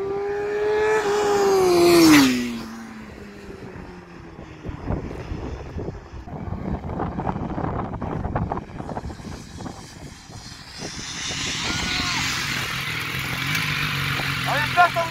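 A motorcycle engine revs up hard, its pitch climbing for about two seconds before it drops off and the bike rumbles away, followed by a low idle and scattered outdoor noise.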